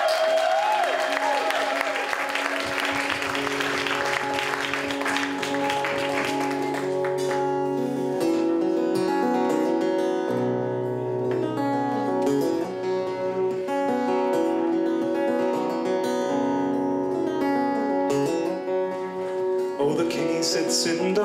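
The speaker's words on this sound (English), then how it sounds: "Give him a round of applause." An audience claps warmly for a musician, a dense patter of applause filling the first several seconds before fading under a sustained run of instrumental music.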